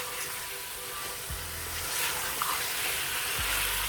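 Mutton frying for a Turkish stew, a steady quiet sizzle in the pan with a few soft stirring scrapes and clinks.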